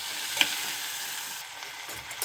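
Washed vegetables frying in a pan as they are stirred, a soft continuous sizzle with a few light scraping knocks from the spoon, close and unaccompanied by speech.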